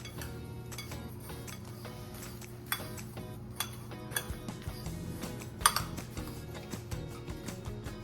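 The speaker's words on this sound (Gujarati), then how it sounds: "અને હવે આને આપણે મિક્સ કરી લઈશું વ્યવસ્થિત રીતે" Dabeli stuffing with peanuts and pomegranate being mixed in a bowl, a quiet run of spoon clinks and taps against the dish that grows busier toward the end, close up and without speech.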